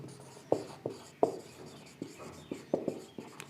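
Chalk or marker scratches out notes on a board, close and clear, with sharp taps and short strokes in an irregular rhythm.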